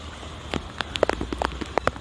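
Rain falling on a home garden with tubs and containers full of water, heard as sparse, irregular drops and patters landing close by, with no voices.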